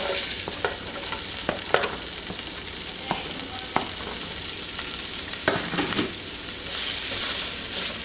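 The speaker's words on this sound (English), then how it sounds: "I'm gonna add in my onions now." Onions frying in oil in a pan for Bermudian curry chicken, a steady loud sizzle with scattered clicks and scrapes of stirring throughout, crackling brighter near the end.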